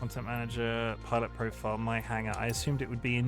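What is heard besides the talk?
No everyday noises stand out.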